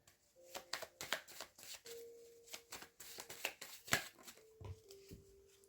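Tarot cards are shuffled and drawn from the deck close by, in repeated quick riffling bursts and soft slaps with brief pauses between, no talking.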